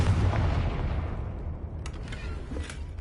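A Confringo spell explosion in Hogwarts Legacy: a deep booming blast fades out over a couple of seconds, followed by a few faint crackling pops.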